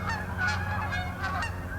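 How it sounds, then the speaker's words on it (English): Geese honking repeatedly in a loud, continuous flock chorus, close by and with no talk over it. "Geese."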